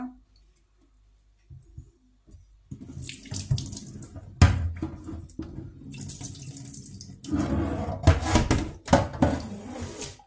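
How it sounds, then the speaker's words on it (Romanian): Cold tap water pours into a sink as boiled supermarket meat is rinsed for a third time. Quiet at first, then a steady splashing flow with louder gushes and clatters, close by, with no talk. "Pun a treia apă de clătire."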